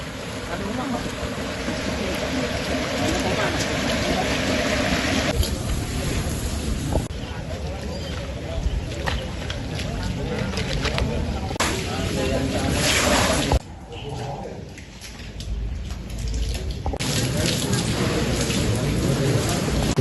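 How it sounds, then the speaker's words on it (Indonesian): Heavy rain and river floodwater overflow across streets of Tembalang, Semarang, Central Java, making a dense, continuous roar and wash of water with a few abrupt shifts in level, close and loud throughout. "hujan deras disertai luapan air sungai menyebabkan banjir di sejumlah wilayah Kota Semarang"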